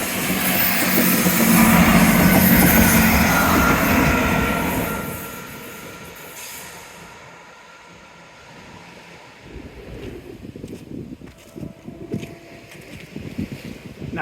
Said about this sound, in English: that was a happy train. I heard it quite clearly, even over my podcast